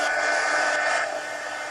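A hair dryer blows steadily at close range to dry watercolor paint on a coloring page, giving a loud continuous whoosh that eases slightly near the end.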